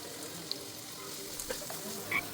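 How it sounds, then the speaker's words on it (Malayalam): Small onions frying in hot oil left over from frying ginger, a soft continuous sizzle with faint crackles and pops, quiet and steady, no voices. "ഇഞ്ചി വറുത്ത് കോരി ആ എണ്ണയിലേക്ക് തന്നെ നമുക്ക് ഇതും കൂടെ ഇട്ട് മൂപ്പിച്ചെടുക്കാം"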